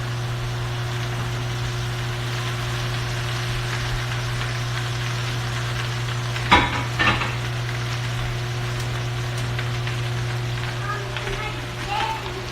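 Food frying and being stirred in rendered fat for Spam and salmon leftover fried rice, a steady sizzle running throughout with a couple of louder clatters of stirring midway, over a constant low hum.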